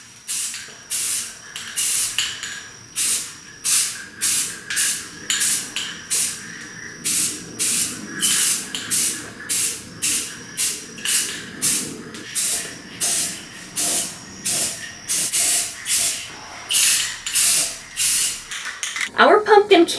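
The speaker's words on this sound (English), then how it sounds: "I'm going to go out to the garage and spray paint the inside with this nice shiny gold" Rhythmic, closely spaced hissing bursts of shiny gold spray paint are sprayed inside glass jars in a garage, loud and near, with short pauses between each burst.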